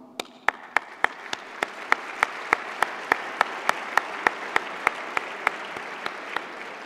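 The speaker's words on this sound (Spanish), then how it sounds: "al cual me permito pedir un aplauso" At a youth entrepreneurs' awards ceremony, an audience claps in a slow, regular rhythm, each sharp clap distinct and evenly spaced, building into a steady unison beat that holds throughout.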